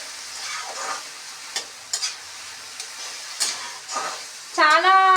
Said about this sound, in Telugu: మనం ఇట్లా కాకరకాయ వేసుకున్నాక ఇలా ఆయిల్లో బాగా అక్కడిక్కడ బాగా కలుపుకోవాలి